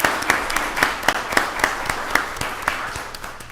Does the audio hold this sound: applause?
yes